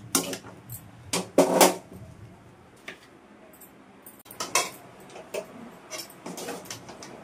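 Chicken fried rice with coriander stirred in a pan: sharp metallic scrapes and taps of a spatula come in irregular bursts, close and fairly loud against a quiet background.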